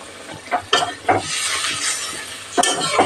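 Pointed gourd curry being stirred in a hot pan over high heat, a spoon scraping and clinking in rhythmic strokes over a steady close sizzle.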